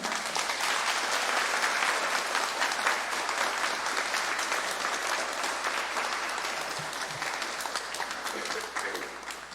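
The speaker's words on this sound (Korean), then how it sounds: "우리 목사님 나오실 때 큰 박수로 환영하겠습니다." A large church congregation applauds steadily and loudly at a Sunday service, a dense wash of clapping sustained throughout without pause.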